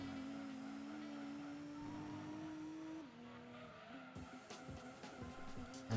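A race car in the video game Gran Turismo 2 drifts, its engine droning at a steady pitch while tires squeal, then the engine note drops and shifts as scrapes and thumps come through.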